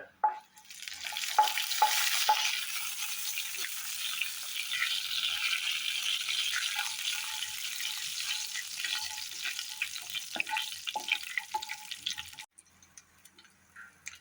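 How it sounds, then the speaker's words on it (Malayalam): Cumin seeds fry in hot oil for dal palak, a steady close sizzle with light crackles that rises quickly and then holds before cutting off near the end. "എണ്ണ ചൂടായി കഴിഞ്ഞാൽ നമ്മൾ കുറച്ച് നല്ലപോലെ ജീരകമാണ് ഇട്ട് കൊടുക്കുന്നത് ജീരകം മൂക്കട്ടെ"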